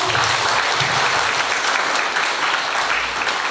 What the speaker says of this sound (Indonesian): sekali lagi tepuk tangan untuk Pak Rektor.